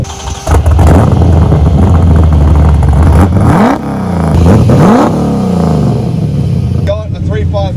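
Holden VK Commodore replica with a 355 stroker V8 revs hard and close, loud throttle blips rising and falling in several sharp sweeps before dropping back, with voices talking over the engine.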